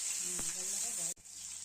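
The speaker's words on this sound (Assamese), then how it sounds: "কাটি ৰখা পিঁয়াজখিনি কেৰাহীটো গৰম হ'ল, তাৰপিছত তেলত দি দিলোঁ।" Chopped onions fry in hot mustard oil in a heated wok, giving a steady close sizzle and hiss that cuts off abruptly near the end, with a brief voice sound partway through.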